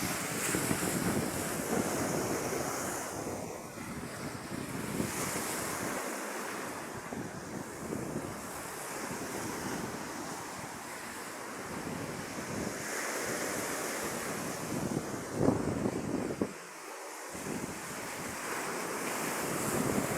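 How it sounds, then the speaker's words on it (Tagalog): Strong surf crashes steadily against a sandy shore, a continuous roar of breaking waves with wind buffeting the microphone throughout. "malakas pa kasing alon"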